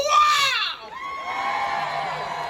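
A large rally crowd in Philadelphia at a Hands Off national day of action cheers and shouts, a single raised voice ringing out first before the broad crowd noise carries on steadily at a distance.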